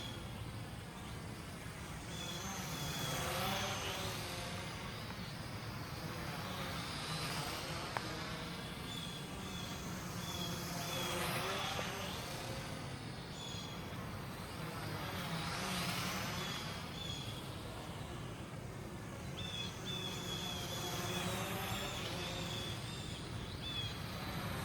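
A GPToys F2 Aviax quadcopter flies continuously, giving off a steady buzzing whine that swells and fades as it moves nearer and farther away, with no talk.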